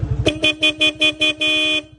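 Horn of a Honda Click scooter honked in a series of short toots, about six quick beeps followed by one longer blast, close and clear.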